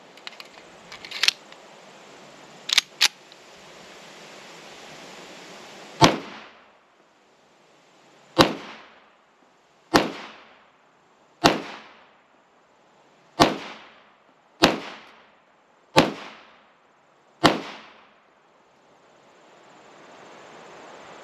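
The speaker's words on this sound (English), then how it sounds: "and let's get to shooting it." A Rock Island Armory 1911 pistol in .38 Super fires nine sharp, loud shots outdoors at an unhurried, uneven pace, each crack trailing off in a short echo, preceded by a few handling clicks.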